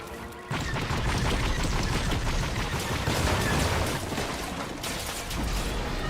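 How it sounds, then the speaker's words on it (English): Gunfire in the video game Fortnite aimed at the player, heard as loud, dense bursts of shots and crashing impacts that begin abruptly and continue almost without a break, with no talking. "Oh crap, I'm getting shot."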